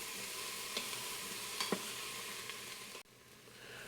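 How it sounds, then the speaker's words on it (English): Vegetables saute in an Instant Pot with a quiet, steady sizzle and a few soft stirring clicks and knocks, ending in a sudden drop in level near the end. "we're going to saute these for a little while till they get nice and soft"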